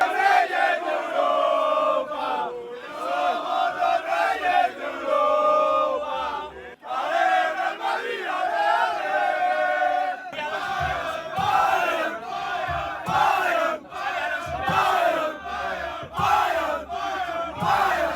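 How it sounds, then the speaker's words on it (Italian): Football fans, Bayern Munich and Real Madrid supporters on their way to a Champions League match, trade loud chants inside a metro train. The massed singing rings out close and echoing in waves with little pause, punctuated by rhythmic shouts and claps. "Veramente spettacolare con questo scambio di cori dentro la metro, nel massimo rispetto tra tifosi."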